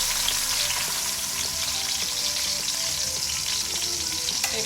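Garlic frying in oil in a cooking pot for a fish sauce, a steady, loud, close sizzle that continues without a break, with faint stirring scrapes and no talking.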